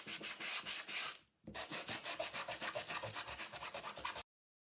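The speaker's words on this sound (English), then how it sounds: "I'm going to take my sanding block and I'm just going to distress it" A sanding block scrubbing rapidly back and forth over a wooden pumpkin to distress it, a dense rhythmic rasp of quick strokes with one brief pause, close and steady, then silence.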